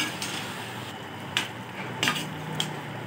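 Spices and ginger-garlic paste are stirred into chicken korma in a cooking pot, producing a steady soft sizzle with a few light metallic clinks of the spoon against the pot.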